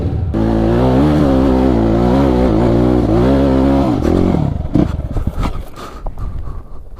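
Dirt bikes climbing a mountain trail, engines droning loud and steady with rising and falling pitch, then breaking into rougher, intermittent bursts and clatter as the ride grows uneven.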